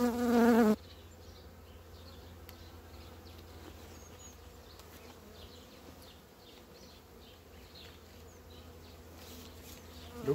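A swarm of honey bees hums continuously, a soft, steady buzzing drone that carries on alone after a short louder tone at the start.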